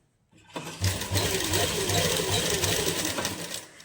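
A sewing machine stitching lace onto the dupatta of a party-wear suit, starting after a brief pause and running in a fast, steady mechanical rhythm, close and moderately loud.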